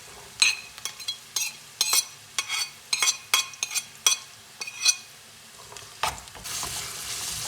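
Carrots frying in a skillet over a gas flame, added after onions, with a dozen sharp stirring scrapes and clatters over a steady sizzle, then a louder hiss near the end; no talking.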